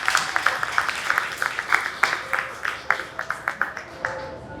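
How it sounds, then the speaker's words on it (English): An audience at a county fair opening ceremony claps in scattered, loosely rhythmic applause, individual hand claps standing out clearly. "Can we give them a round of applause so that they know they did"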